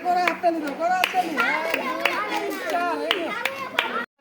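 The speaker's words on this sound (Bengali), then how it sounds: "একটা করে হাততালি দাও করে হাততালি" Children clap in sharp, separate hand claps, each clap standing out, under lively talking and laughter from kids and an adult during a game.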